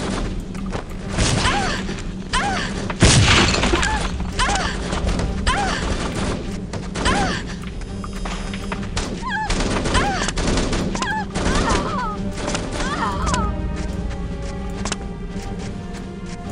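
Gunfire in the shooter game No One Lives Forever: dense, loud bursts of automatic shots and single cracks with a heavy blast near the start, crowding the whole stretch amid clattering mechanical effects.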